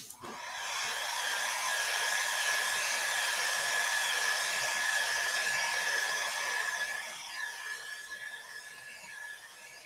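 A hair dryer blows steadily for several seconds to dry silver paint on a mixed media panel, a loud, close whoosh with a thin whine that tapers slightly near the end.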